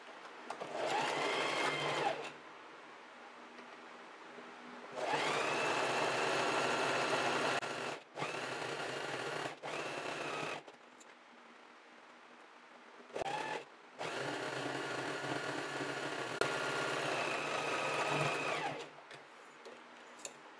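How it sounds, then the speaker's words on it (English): A sewing machine stitches a folded blouse strap in several bursts of steady, close whirring, each lasting a few seconds and separated by short pauses. "Fold it in half, and then sew with a 1 centimeter seam allowance away from the folded edge"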